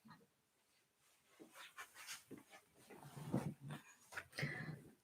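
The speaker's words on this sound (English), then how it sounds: "Oh, puppy, we do not eat stuffed toys." A puppy chews and gnaws at a stuffed toy, making soft snuffling and growly mouthing noises that start quietly and grow busier and louder toward the end.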